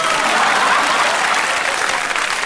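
Studio audience at a French radio comedy panel show applauding a performer's Dalida impression, a steady, dense wash of clapping that holds loud and even throughout.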